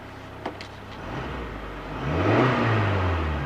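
A 2015/16 Honda Amaze petrol car's engine idling low, then revving up in a smooth rising whir during the second half, close by with no talk.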